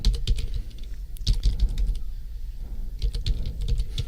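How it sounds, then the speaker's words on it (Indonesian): Keys on a computer keyboard tapped steadily while entering an Excel formula, close and clear with short bursts of clicks and brief pauses, no voices. "kita ketik sama dengan"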